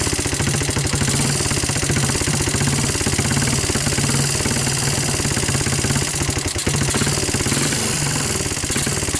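A Honda TRX200SX ATV engine runs on choke with deliberately loose valves, a loud, steady, rattling mechanical clatter that persists close up without pause and with no voices.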